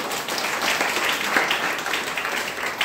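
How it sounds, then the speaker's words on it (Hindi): Loud, steady applause from an audience at a health talk, a dense continuous wash of many hands clapping that holds evenly for a few seconds with no speech over it. "तो डीएक्शन के लिए जोरदार ताली हो सकती है नहीं?"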